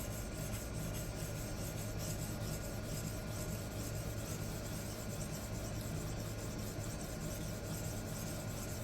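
Steady rasping passes of a knife edge trailed across high-grit abrasive film, a continuous close scraping rub with no talk.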